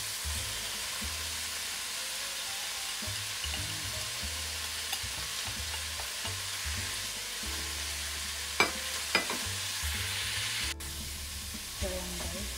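Vegetables being stirred in a frying pan at a home stove, a steady soft sizzle of frying with repeated scraping strokes of a utensil and a few sharp clinks against the pan, close by.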